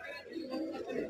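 Pigeons coo softly at a busy pigeon market in Artibazar, Keraniganj, Dhaka, a brief low murmur heard under a voice and crowd noise.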